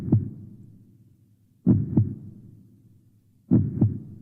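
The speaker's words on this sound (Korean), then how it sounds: "그리고 12번째로는 심장소리입니다." Heartbeat sound effect: three deep, booming double thumps, lub-dub, evenly spaced about two seconds apart, each fading into a low rumble, with no voices.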